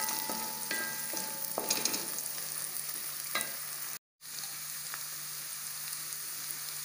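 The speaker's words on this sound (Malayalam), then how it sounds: "ഇനി നന്നായിട്ടൊന്ന് ഇളക്കി കൊടുക്കാം." Ingredients for a vegetable biryani, including crushed cashews and raisins, stirred in a pan over steady sizzling frying, with several scraping strokes of the spoon early on and a brief dropout midway.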